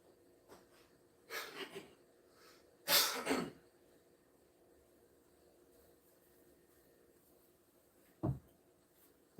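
Someone blows their nose in another room of an apartment, two short, rough nasal blasts heard faintly from a distance, with a third brief burst near the end.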